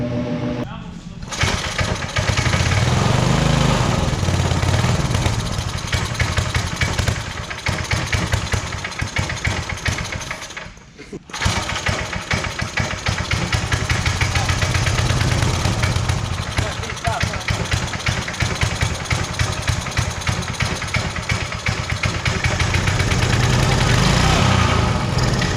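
A Predator 212cc small engine on a cheap go-kart runs loud and close, held up on throttle because it won't idle, with a brief dip near the middle before revving back up.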